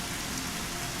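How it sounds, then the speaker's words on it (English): Heavy rain in the video game Dig or Die pours as a steady, dense hiss of falling drops, even and unbroken. "There we go, we got some heavy rain."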